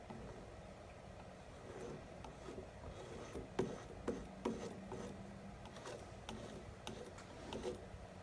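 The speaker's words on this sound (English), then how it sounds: "I am scraping the palette here to get some black off of this." A palette knife scraping black oil paint off a painter's palette, a quiet dry rasping with several short sharper scrapes, faint and close, no talking.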